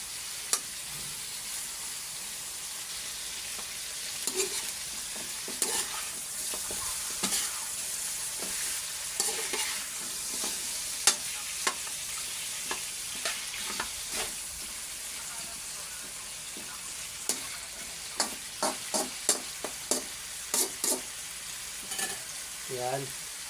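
Chicken thighs and legs cooking as adobo in coconut milk, a steady close sizzle and bubbling broken by repeated sharp scrapes and clinks of a stirring utensil against the pan.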